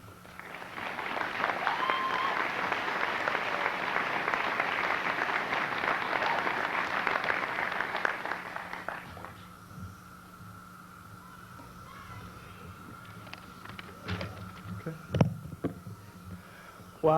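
An indoor audience at a graduation ceremony applauds a speaker with sustained, dense clapping for about eight seconds before it fades out, leaving a quiet room with faint scattered shuffles and knocks.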